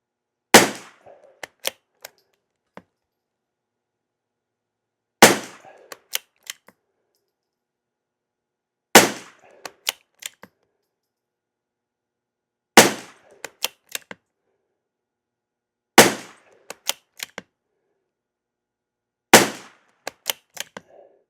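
A rifle fires CCI SV ammunition at an outdoor range: six sharp, dry single cracks spaced about four seconds apart, each followed by a few faint metallic clicks and taps, heard close and with no talk.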